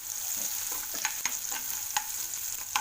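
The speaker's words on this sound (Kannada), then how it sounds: "ಒಂದು ಕಡಾಯಿ ಹಾಕ್ಕೋಬೇಕು. ಈರುಳ್ಳಿ ಬೆನಿಬೇಕು" Onions frying in a kadai, with a steady sizzle and the scrape and clink of a spatula against the metal. Soft stirring clicks come through from close by.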